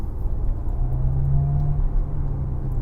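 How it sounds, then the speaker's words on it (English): A smooth, steady simulated engine hum piped into a Maserati GranTurismo cabin in sport mode, rising slightly into a brief whirring tone midway before settling back. "You do get a bit of piped in engine noise, the simulated engine noise."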